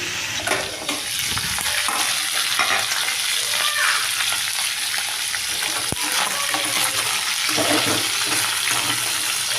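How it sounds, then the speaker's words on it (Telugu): Chicken fries in oil in a pan, a dense, loud, continuous sizzle close up, with a few stirring movements and no speech. "చికెన్ అయితే ఇలా నూనెలో వేసేసి ఫ్రై చేసుకోవాలి"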